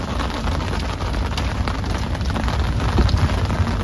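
Steady rain falling outdoors, heard from under an umbrella: a loud, dense hiss of drops pattering on the surface, continuous and close, with no talking.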